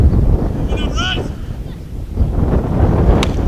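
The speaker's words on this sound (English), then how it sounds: "very windy here before the rain comes" Strong wind before rain at a baseball game buffets the microphone in a steady low roar throughout, with a brief whistle-like tone near the start and a faint sharp tick near the end.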